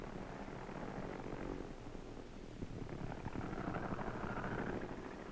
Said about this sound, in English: The next plane enters the groove.